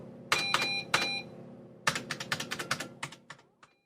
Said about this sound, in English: He was typing a kind of code on the screen.